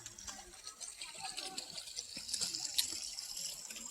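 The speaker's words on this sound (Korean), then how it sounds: "물이 졸졸졸 흐르고 있습니다." A small stream trickles through Baeksasil valley on an early March walk, a steady close babbling wash with light splashy flickers and no talk over it.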